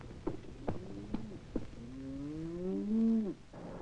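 Cattle in a feedlot low, a long drawn-out moo rising and falling after a few soft knocks, fairly faint and alone against a quiet background hum.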